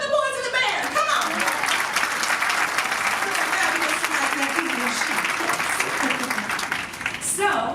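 Concert audience on a cruise ship applauds the band during a tribute show, steady dense clapping and some cheering throughout, with a voice speaking over it at the start and end.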